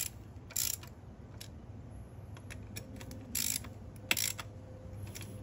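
A hand ratchet clicks faintly in short bursts while bolts on a supercharger cover are snugged down during a car supercharger install, the quick pawl clatter recurring several times over a low background hum.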